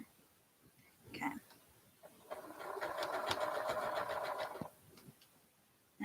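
A sewing machine stitches fabric for an order in a short run of about two seconds, a steady close whirring hum, framed by small handling noises as pins are pulled out.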